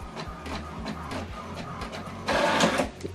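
HP Deskjet 2710 inkjet printer printing a page: rhythmic low mechanical whirs from the carriage and feed motor in repeated strokes, ending in a louder, busier burst of gears and paper movement, close and without talk.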